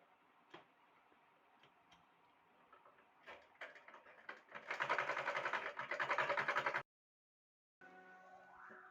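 A sewing machine stitches a folded nighty hem with quiet ticking at first, then a steady run of whirring stitches that stops abruptly, followed by a brief silence and a softer restart.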